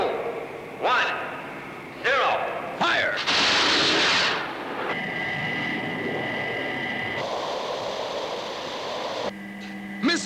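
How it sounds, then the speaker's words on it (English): Interceptor missiles launch in a Thunderbirds television episode. Loud rushing bursts build into a sustained roar, with electronic tones and effects underneath. "Trigger interceptor missiles."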